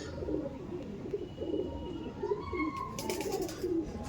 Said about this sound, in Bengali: এটা তো অনেক এজেড পায়রা বসে রয়েছে